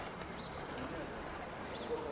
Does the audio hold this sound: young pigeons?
yes